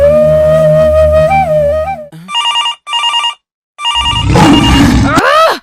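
A telephone rings in sharp repeated electronic bursts separated by brief gaps, loud and near, after a passage of music and before a rush of noisy activity.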